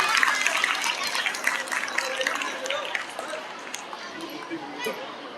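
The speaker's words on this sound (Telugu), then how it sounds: "Please give big applause to these rankers." Audience at a school academic celebration clapping loudly for top-ranking students, a dense burst of applause with mixed chatter that gradually thins and fades over several seconds.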